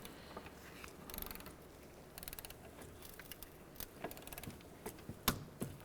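A ratchet tightens 13mm bolts on the engine torque strut mount of a 2007–2012 Nissan Altima 2.5L I4, giving quiet, intermittent clicking bursts with brief pauses and a faint clank.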